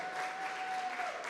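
A church congregation applauds, a soft, steady wash of clapping with no clear voices, fairly distant and quiet.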